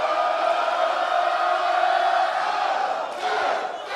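Wrestling crowd at an independent show in Cranston roaring for Bear Bronson, a steady dense wall of cheering and yelling throughout, loud and close, dipping slightly near the end.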